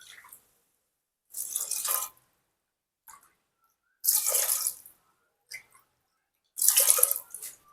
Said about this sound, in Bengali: আর 3 কাপ মতো আমি জল দেব।